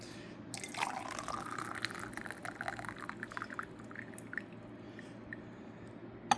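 Boiling water poured over raw puerh tea leaves for a rinse, a 2011 Xiaguan FT Nanzhao Jin Ya cake; a close, steady pour and trickle lasting several seconds, with scattered drips, ending in a small clink.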